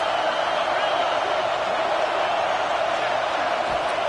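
Stadium crowd roar from a College Football 26 dynasty game against Oregon, a steady loud wash of cheering on a big third down, continuous throughout with no breaks.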